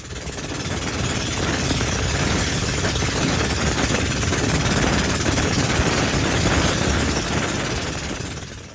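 A medium-sized outrigger boat in the Philippines runs its engine loudly and steadily throughout, a dense broadband roar with no voices over it.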